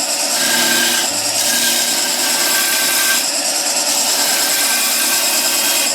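A smaller skew chisel roughs out a wooden spindle turning on a lathe, giving a loud continuous scraping, hissing cut with brief dips as the tool shifts along the work.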